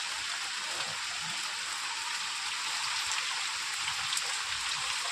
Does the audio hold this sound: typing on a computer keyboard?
no